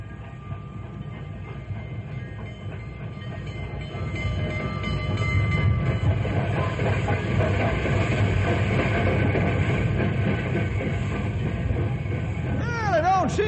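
The Fireball Express train rolls in with a loud, building rumble of wheels and rail clatter that grows stronger midway, with a brief whistle-like squeal near the end.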